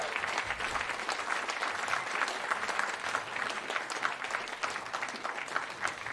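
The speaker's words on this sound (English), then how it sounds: "So another applause for Eddie Harris." Steady audience applause at a jazz club tribute honoring saxophonist Eddie Harris, dense clapping sustained evenly throughout, moderately loud and fairly close, with no talk over it.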